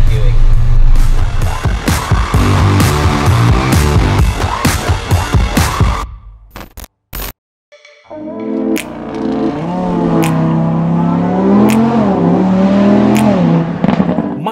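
An Audi R8 V10 Plus mid-engine sports car roars and revs hard, then cuts out briefly before rising again into a steady, loud rumble with shifting pitch.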